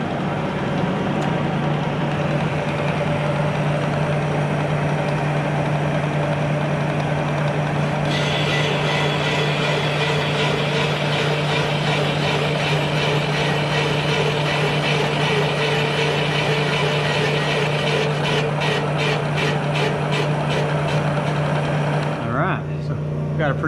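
A boring bar cuts the cylinders of a 350 Chevy engine block, a steady machine hum with a strong low drone that picks up a harsher, rattling metallic cutting tone once the feed engages, continuing evenly until it winds down near the end.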